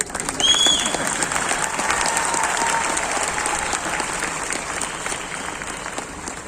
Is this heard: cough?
no